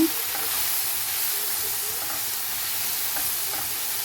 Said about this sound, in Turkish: Biraz karıştırıyorum.